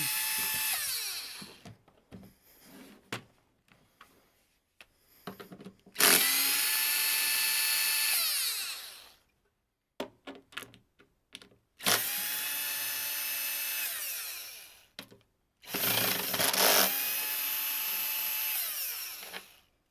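A power drill backs screws out of a Marshall DSL100H guitar amplifier head, with four long whirring runs that spin up, hold and stop, separated by clicks and handling noises.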